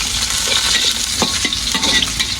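Garlic frying in a pan for garlic fried rice, a steady bright sizzle with a few sharp scrapes and taps of stirring, close and loud.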